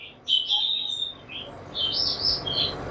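Oriental magpie-robin (murai batu), a competition songbird kept in a cage, giving bright high chirps and short song phrases in bursts over about three seconds, fairly close, with no voices.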